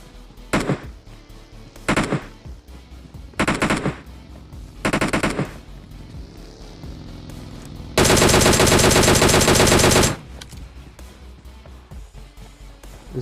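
Gunfire in the PUBG Mobile shooter game: several short automatic bursts in quick succession, then a long, loud, sustained burst of rapid fire lasting about two seconds, with no talking.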